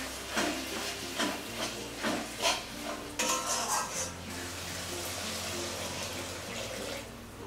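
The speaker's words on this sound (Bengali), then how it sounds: "খুব সামান্য জল দিলাম।" A little water poured into a pan of fish dopiaza curry with fried onion paste, sugar and slit green chillies, giving a brief splashy pour amid light clinks of utensils against the pot, close and moderately loud.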